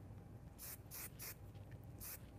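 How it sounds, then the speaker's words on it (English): Hairspray misted onto styled hair in a quiet salon setting, several short faint hissing bursts spaced apart, close but soft with no talking. "I'm going to apply a little bit more hairspray."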